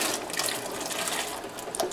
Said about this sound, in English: I'm just going to pour in very carefully my half stock pot